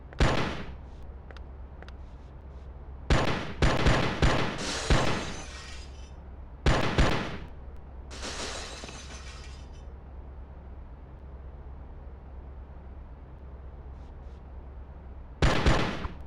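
An auto pistol fires at targets on stands in the Oni PS2 video game, with short clusters of sharp shots and glassy, shattering impacts separated by long, quiet pauses.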